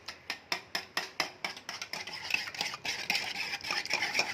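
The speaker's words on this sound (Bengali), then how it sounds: "তাই হ্যান্ড হুইল দিয়ে বিট করছি" A hand-cranked beater whisks four eggs in a bowl for egg pudding, first with regular clicking strokes and then faster, denser rattling and scraping.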